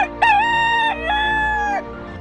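A rooster crows once in a long, loud, clear call with a rising start and held tone, heard alone without talk.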